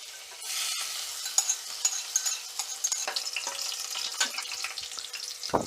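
Finely crushed garlic drops into hot oil for a tempering with cumin and curry leaves, bursting into a close, bright crackling sizzle that carries on with uneven pops and spits.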